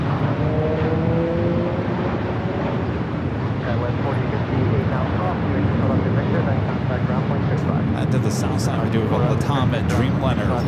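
A LATAM Airlines Boeing 787-9 Dreamliner on its takeoff roll down runway 25 right at LAX, bound for Santiago, gives a loud, steady broadband engine roar that holds throughout, with faint voices over it.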